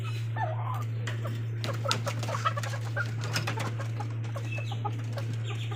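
A flock of about 220 chickens on a poultry farm, with scattered clucks and calls over a steady low mechanical hum, and no talking.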